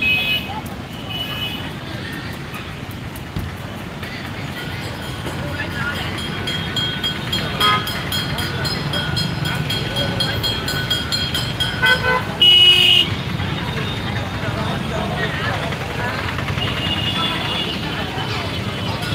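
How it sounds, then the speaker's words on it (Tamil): Heavy street traffic with car horns honking during a festival procession, engines droning continuously while several horn toots and honks cut through, loudest near the middle, with a voice talking intermittently underneath. "செம்ம டிராஃபிக்காக இருக்கு."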